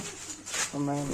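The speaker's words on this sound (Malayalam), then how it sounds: "നമ്മുടെ തെക്കൻ പ്രാവാണ്" A pigeon's low, soft coo swells up near the end, a brief throaty hum following a moment of quieter background noise.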